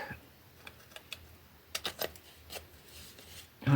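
Scissors cutting paper for a scrapbook album, a series of short, crisp snips and rustles close by at an uneven pace, ending with a louder paper handling sound.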